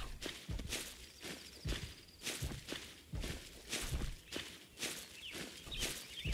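Even footsteps of a character walking in the Hold Your Own video game, a regular crunching rhythm of about two steps per second, close and clear over faint ambience.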